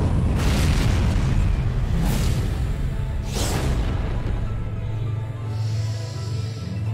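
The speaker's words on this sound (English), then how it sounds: "Boss exploded." Boss blowing apart in Bayonetta: a series of loud rumbling booms with three sharp bursts landing over about seven seconds, followed by a low sustained roar that lingers.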